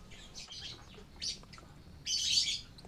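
African lovebirds give short, bright chirps in several quick bursts, the loudest near the end, over a quiet background.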